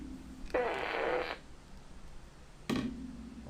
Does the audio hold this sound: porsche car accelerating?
no